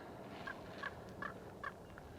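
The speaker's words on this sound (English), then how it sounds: "there's a bird squawking at me here." A bird squawks four or five times in a steady rhythm at a remote Southern Colorado ghost town, the calls fairly faint and distant over steady wind or outdoor background noise.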